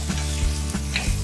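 Chopped potatoes sizzle and fry with roasted ginger in a pan, a steady close crackle with soft stirring scrapes and no voices.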